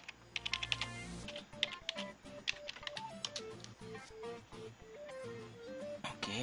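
A password is typed on a computer keyboard in quick, irregular runs of faint keystrokes over a low electronic hum, with no voices.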